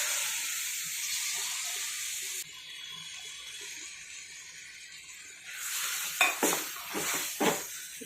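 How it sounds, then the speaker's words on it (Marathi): Boiled peas are tipped into spicy masala frying in oil in a pan for a Maharashtrian pea curry. A steady close sizzle runs throughout, with several louder scraping stirs near the end. "आता याच्यामध्ये उकडून घेतलेला वाटाणा टाकून घेऊयात"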